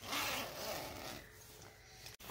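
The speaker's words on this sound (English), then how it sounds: "Good quality zipper." Quiet zipper on a boys' waterproof winter snow parka, one short rasping pull close by, followed by a brief pause.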